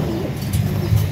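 A racing pigeon coos softly and steadily at its home loft after a race, close by, with faint background noise and no other sounds.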